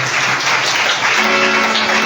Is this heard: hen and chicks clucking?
no